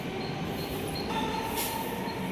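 A Mumbai local commuter train rolls along steadily at close range, a continuous rumble of wheels and carriage noise with a brief brighter hiss partway through, no voices.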